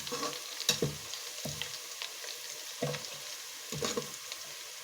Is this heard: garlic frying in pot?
yes